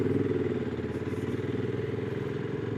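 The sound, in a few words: motorcycle engine running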